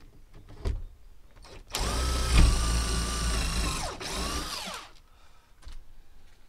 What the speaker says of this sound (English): I'm having to drill a pilot hole first